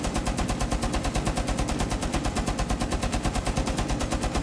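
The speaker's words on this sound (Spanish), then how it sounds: "voy a ver si gastando las 70 balas pasa algo, pero no, literalmente van desapareciendo los tiros" Rapid, evenly spaced machine-gun fire from Tachanka's weapon in the video game Rainbow Six Siege (Shadow Legacy) rattles loudly and continuously, with a person speaking briefly over it.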